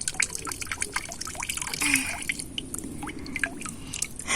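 Running water splashes and trickles as a child washes her hands, a busy, close dripping and sloshing sound that continues throughout.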